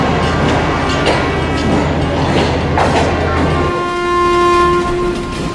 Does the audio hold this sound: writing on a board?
no